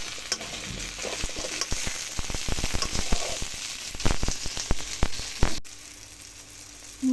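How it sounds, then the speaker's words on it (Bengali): Onion, garlic and ginger fry in a pan with oil, a dense close sizzle broken by repeated scraping stirs, then it quietens to a low hiss. "এখন আদা পেঁয়াজ রসুন বেশ কিছুক্ষণ ভাজা ভাজা করে নেব"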